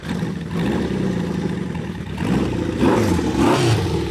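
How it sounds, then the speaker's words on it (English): A 1974 Honda CB550 custom cafe motorcycle engine, electric-started, runs steadily at mid pitch, then revs louder and higher in a couple of throaty surges near the end, with no talking. "Electric start, fires right up."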